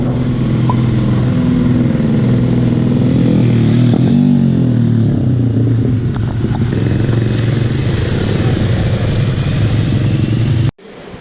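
A motorcycle engine roars loud and steady at high revs on a race track at MMRT Chennai during a track day, droning continuously, then cuts off abruptly near the end.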